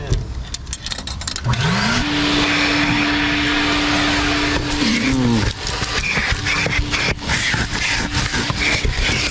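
Coin-operated car wash vacuum running steadily and loud, its motor tone rising as it spins up and then dropping out, with a second hum continuing after.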